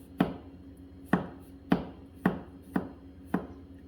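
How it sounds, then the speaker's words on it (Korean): A knife cuts thick burdock root in the pencil-sharpening style, six crisp chops striking the board at an even, steady rhythm, each one close and sharp with a short decay, no talking. "우엉 같은 두꺼운 재료를 썰 때 얇게 먹기 위해서 써는 건데, 이렇게 연필 깎기처럼 이렇게 써는 겁니다"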